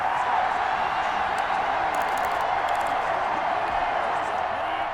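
A stadium crowd at an American football game, Washington against the Rams, roars after an interception, a steady, dense wash of cheering and whoops that holds loud and sustained throughout.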